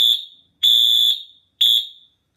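Bosch fire alarm horn with a shrill piezo element sounding three loud, piercing tonal blasts, the first short and the next two longer, each ending abruptly with silence between.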